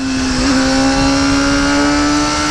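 A Kawasaki Ninja motorcycle engine drones at a steady, high pitch while being ridden through corners, loud and close, with a slight rise in pitch early on and no talk.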